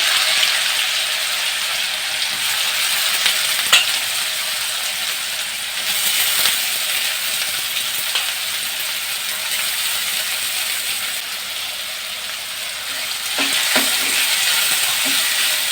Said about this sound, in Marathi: आता आपल्याला कांदा चांगला ब्राऊन कलर लाल कलर चांगला परतून घ्यायचा आहे